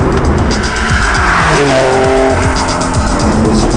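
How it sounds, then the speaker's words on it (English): An Acura NSX sports car drives hard with a loud, steady engine roar and squealing tires, heard up close from inside the car with no talk. "we're riding in my NSX, my dream car"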